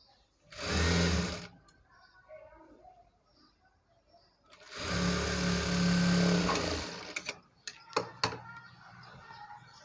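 Sewing machine stitching two saree fabrics together in two bursts of rapid whirring, one short and one longer, close and loud, with a quiet voice and faint handling clicks between and after.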